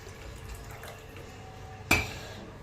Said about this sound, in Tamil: இப்போ இதில் புளி தண்ணி ஊற்றிக்கலாங்க.